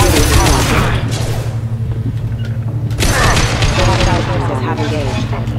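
Rapid weapon fire in the video game Mass Effect 2, with bursts of loud, dense shots and booming impacts. A synthetic robotic voice speaks over the combat.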